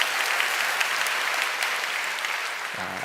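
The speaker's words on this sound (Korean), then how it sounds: "박수." A church congregation claps together during a sermon service, a broad, sustained patter of applause at moderate volume that fades slightly near the end.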